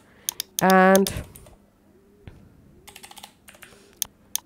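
A name is tapped out on a computer keyboard in quick, light clicks arriving in short clustered bursts, close and clear, after a brief spoken word.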